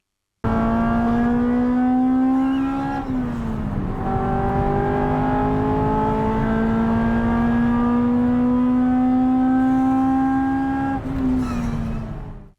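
Honda CR-X engine, rated at 160 horsepower with an 8,000 RPM redline, revving hard and loud up through the range, with a brief dip partway through before climbing again and then cutting off.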